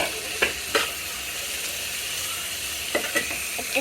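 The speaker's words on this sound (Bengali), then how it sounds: "সাথে লাল সবুজ সবুজ লাল আর হলুদ ক্যাপসিকাম দিয়ে দিয়ে ভেজে নিচ্ছি" Red, green and yellow capsicum frying in a pan, with a low continuous sizzle and a few sharp spatula scrapes near the start and end.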